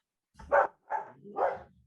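A pet dog barks three times in quick succession, moderately loud and fairly close, during an online meeting, with no talking over it.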